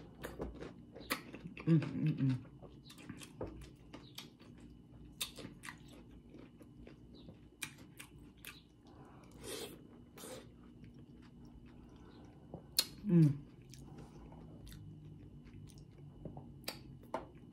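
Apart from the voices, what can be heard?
biting and chewing cucumber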